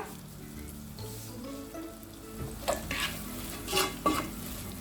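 Sliced onions sauté with salt in a pan for a Chettinad chicken curry, giving a steady close sizzle with a few spatula scrapes and clinks against the pan toward the end.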